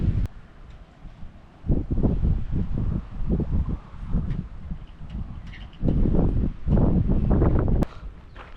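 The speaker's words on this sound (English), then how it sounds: "kind of windy here." Gusty wind on the Atlantic coast buffets the microphone in uneven bursts, some loud and some softer, with quieter stretches between them and no talking.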